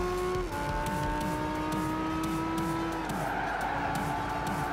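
A Ferrari Enzo race car in the video game Gran Turismo 5 roars at high revs, its engine pitch dropping through gear changes while tires squeal in long, steady skids, loud and close throughout.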